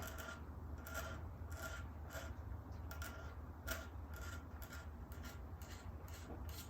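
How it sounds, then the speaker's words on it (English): Finish is scraped off the body of a 1970 Gibson Les Paul guitar in faint, repeated rasping strokes over a low background hum, with no talking. "Then we can just come back in and scrape that right off like that."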